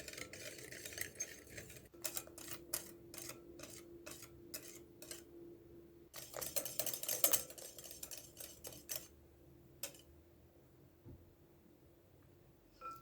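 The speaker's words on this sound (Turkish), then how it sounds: "ve vanilyayı ekleyerek çırpmaya başlayalım. Güzelce çırpıyoruz." Whisking egg, sugar and vanilla in a bowl for an apple dessert batter gives a run of quick metallic clicks and scrapes against the bowl, in bursts with short pauses, fairly quiet and close.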